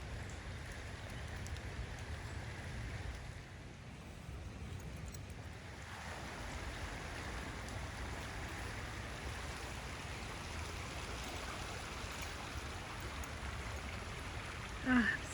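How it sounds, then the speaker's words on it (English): Steady rain falls outdoors in a nature setting, with small rain-made streams running nearby, making a continuous broadband wash of patter and flowing water that holds at an even level throughout, with no voices. "Wow, all the little streams that the rain created."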